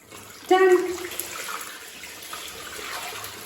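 Bath water for a baby splashing and trickling briefly, a short burst of pouring followed by quieter running water, with faint talk nearby.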